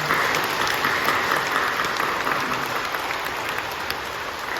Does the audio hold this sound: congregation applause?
yes